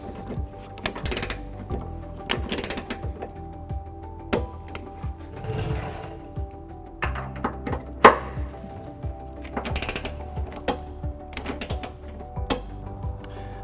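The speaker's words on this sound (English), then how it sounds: "take an extension and 11/16 socket and torque to the manufactured specs" Ratcheting and metallic clicks from a torque wrench with an extension and 11/16 socket tightening trailer hitch bolts on a 2013-2023 Nissan Sentra, a series of close, uneven clanks and ratchet bursts with one sharp click-like snap, no talk.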